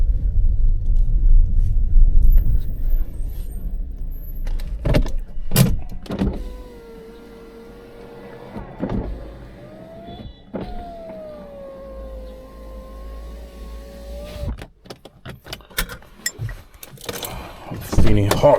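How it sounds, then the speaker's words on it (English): A car pulling in and parking in a residential area, with a tonal whine from power windows or the motor, a low rumble, and short clunks and thumps, close by. "Park my car here."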